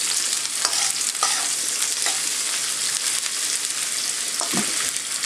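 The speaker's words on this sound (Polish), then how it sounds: "Obsmażamy ją około 2 minuty." Strips of chicken cut Thai-style sizzle steadily in a hot pan, with scraping stirs and light clatters breaking through the continuous frying hiss; close and fairly loud, with no talking.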